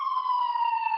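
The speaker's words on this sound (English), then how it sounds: "So here comes the siren now." Emergency vehicle siren passing by, a loud steady wailing tone that holds and slowly drifts lower in pitch, heard alone without talk.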